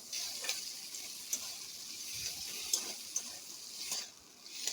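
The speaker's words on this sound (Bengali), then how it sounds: "রসুন কুচি দিয়ে আবার ভাজা করে নেব" Chopped garlic frying with onions in a pan gives a faint, steady hiss of oil broken by occasional light ticks and scrapes of stirring, with no talking.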